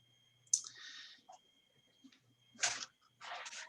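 A few sharp, quiet clicks of a computer mouse pressing a button in accounting software, spaced apart across an otherwise near-silent room.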